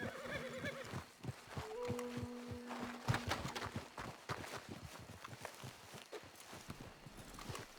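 Horse hooves clip-clopping at a steady walk in Red Dead Redemption 2, with a horse whinnying near the start, all set against a dense, busy game background.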